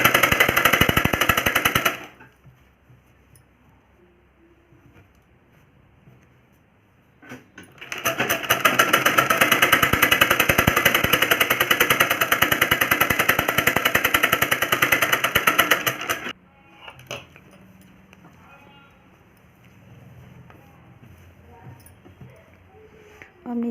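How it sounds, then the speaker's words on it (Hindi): A sewing machine stitches a simple blouse in two loud bursts of rapid, rattling needle strokes, the second lasting several seconds, with quieter pauses between them. "फिटिंग हम सबसे पहले सीधे की साइड में हम एक सिलाई लगाएंगे"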